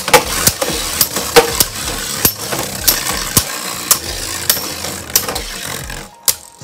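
Burst Spriggan and Guilty Beyblade tops battling in a stadium, sharp metallic clacks from repeated collisions over a whirring spin, with a sudden stop near the end.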